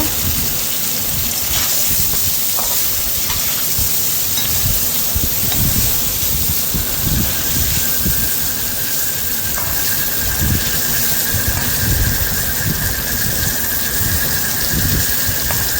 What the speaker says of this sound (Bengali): ভালো করে ভেজে নেব পনিরটা